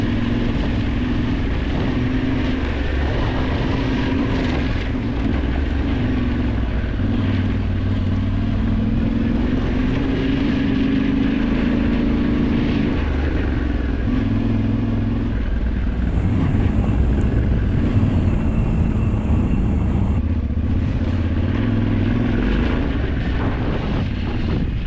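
Lightweight motorcycles, stripped of their luggage, ridden along an easy dirt track toward Lac des Sagnes in the southern Alps, with a continuous loud engine drone, shifting revs and heavy wind buffeting.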